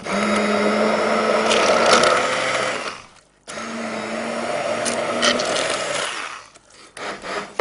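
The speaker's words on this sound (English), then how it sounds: "Pulse it in a food processor or just whiz it up." A food processor whirs as it blends spinach and peas, a loud close grinding run that cuts out briefly, starts again and ends with a few short pulses.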